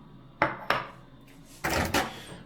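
A plated chicken-and-rice meal goes into a microwave: two sharp dish clatters, then a broader burst of handling and the door, all close and with no talking.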